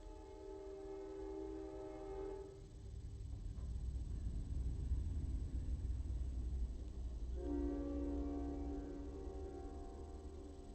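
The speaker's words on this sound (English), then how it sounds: "And that is the train." A train passes at a distance, its low rumble swelling and holding while a steady horn-like tone sounds before and after, faint and alone with no voices.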